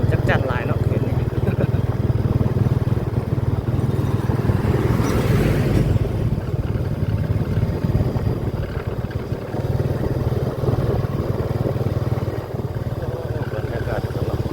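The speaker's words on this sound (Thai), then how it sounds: "เสียงจักจั่นหลายเนาะเขตนี้" Cicadas drone steadily in a semi-rural area on the edge of Vientiane, a constant high buzz under a low rumble of a vehicle engine. Someone talks over it throughout.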